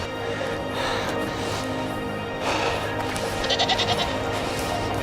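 A herd of goats bleats along a mountain trail on the Karakoram road, several calls overlapping at mid distance, a rapid pulsing bleat rising near the end over steady outdoor background noise.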